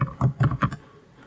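A short burst of typing on a computer keyboard, a few quick, close keystrokes in a cluster that then fade into quiet.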